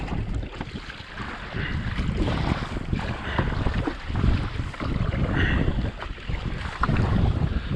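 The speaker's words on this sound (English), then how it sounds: "Waves!" Sea waves lap and wash around a sea kayak drifting at sunrise, a steady broadband swash with wind buffeting the microphone, continuous and fairly close, no talking.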